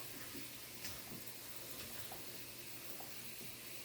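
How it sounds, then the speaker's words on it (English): Tap water runs steadily and faintly over collard greens being rinsed in a sink, a soft continuous splashing hiss with small irregular drips and no talk. "Rinsing them off."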